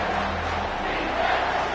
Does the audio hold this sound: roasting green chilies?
no